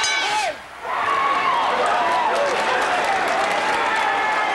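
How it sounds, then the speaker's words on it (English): Crowd cheering and applause fill an arena during a kickboxing bout, a loud sustained roar that dips briefly near the start and then swells again, with a commentator's voice running over it. "I would say the crowd is enjoying this."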